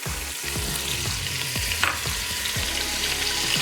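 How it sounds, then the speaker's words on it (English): A white onion frying in rendered bacon drippings for corn chowder, with a steady close sizzle and a few scrapes and stirs, no voices. "to the bacon drippings, we are going to use that rendered fat to cook our vegetables for our chowder"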